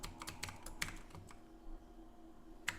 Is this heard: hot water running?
no